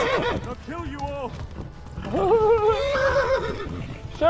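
A horse in the video game Kingdom Come: Deliverance gives a loud, rising-and-falling whinny over the clatter of galloping hooves, with a player's voice talking nearby.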